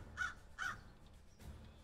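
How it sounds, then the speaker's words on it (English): Crows in the video game Fantasy General II give two sharp, clear caws in quick succession, followed by a fainter third call against a quiet background. "Oh, a murder of crows are here."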